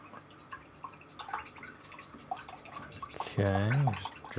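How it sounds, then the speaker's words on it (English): An acrylic paintbrush is swished and dabbed in water, giving soft irregular dripping and sloshing close by, with a voice speaking over part of it and a brief louder burst near the end. "I mean, wash my brush."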